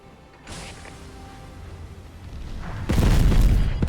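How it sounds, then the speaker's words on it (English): Torpedo explosion in the naval combat game World of Warships, a soft thud followed near the end by a loud, deep booming blast that swells and lingers over low ambient game noise. "Look out! Torpedo!"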